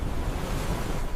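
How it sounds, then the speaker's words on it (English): Heavy surf of a tsunami wave slamming into coastal sea defenses in Japan, a continuous loud low roar of churning water with wind noise and no talking. "The first wave slammed into the coastal defenses with unimaginable force"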